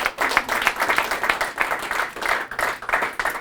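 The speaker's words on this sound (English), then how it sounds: "I think it'd be really smart for you to clap for each other" An audience claps for each other, a dense burst of applause from many hands that swells and dips in waves throughout.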